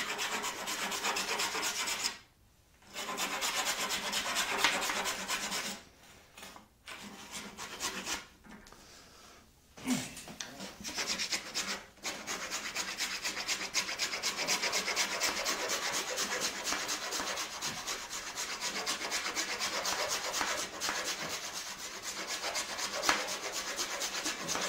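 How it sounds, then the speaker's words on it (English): Rasping filed strokes against a wooden stick, a continuous scratchy back-and-forth rubbing heard up close, broken by a few brief pauses, steady and alone for most of the stretch. "Filing, filing, filing."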